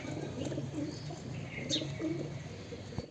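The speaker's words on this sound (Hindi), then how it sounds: "ये जंगली कबूतर डब्बे के अंदर जाके दाना खा रहे हैं" Wild pigeons cooing near and far while feeding on grain inside a box, soft low coos and a few chirps over a steady outdoor murmur with no talk.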